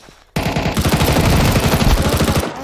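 Rapid automatic gunfire from the video game Counter-Strike 2 bursts in suddenly after a brief quiet moment, then continues as dense, loud, sustained volleys that taper slightly at the end.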